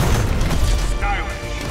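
A heavy energy-beam blast, Iron Man's Proton Cannon super in the fighting game Marvel vs Capcom: Infinite, roars as a dense, sustained low rumble with crackling bursts, loud and continuous for under two seconds.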